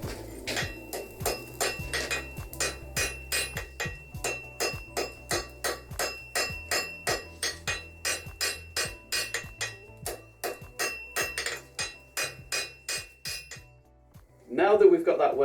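A hammer striking hot steel on an anvil to set a forge weld for a wheat sculpture, about forty ringing metallic blows at a steady, even rhythm. Each blow is close and clear, and the hammering stops near the end.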